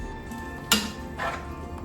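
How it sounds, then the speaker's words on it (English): A utensil stirs shrimp around in a cooking pan, giving one sharp metallic clink followed by softer scraping and rustling against the pan over a faint steady background. "Stir this around a little bit."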